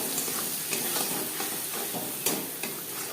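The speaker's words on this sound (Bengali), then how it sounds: "কাঁচা লঙ্কা ও কালো জিরে ভেজে নেওয়ার পর দিয়ে দেবো পোস্ত ও কাঁচা লঙ্কা দিয়ে" Green chilies and nigella seeds fry in a pan for a Bengali aloo posto, giving a steady close sizzle with a few soft stirring scrapes and no voices.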